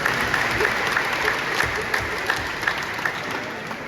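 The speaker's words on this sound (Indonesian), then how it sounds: "kita berikan aplaus" Dense, sustained applause from a crowd at a wedding ceremony, steady and fairly loud throughout with no clear voices on top.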